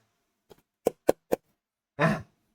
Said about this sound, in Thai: เสียงแบบนี้เลยเดี๋ยวผมได้เป็นกล่องเหล็กแบบนี้ด้วยนะครับผม